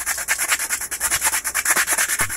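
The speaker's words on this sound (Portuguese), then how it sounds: "Só com a lixa, ó." Sandpaper rubbing back and forth along the edge of a PVC ceiling panel, a steady rhythmic scratchy rasp of about twenty quick strokes, close and alone with no talking.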